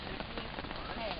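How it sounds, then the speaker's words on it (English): Heavy rain pours steadily during a camping trip on the Juan de Fuca Marine Trail, a dense, faint hiss of drops on a surface that lasts the whole brief moment. "It's still pouring rain."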